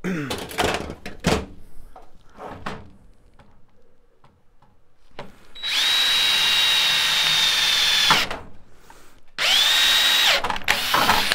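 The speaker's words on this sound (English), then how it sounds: "And drill it." A power drill bores a hole in a laser cabinet during a laser power supply replacement. Two close, loud, steady whining bursts, the first about three seconds long and the second shorter, follow some faint handling clicks and quiet moments.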